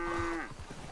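A single cow in Red Dead Redemption 2 lets out one close, clear moo, a drawn-out low call that dips and fades within a second.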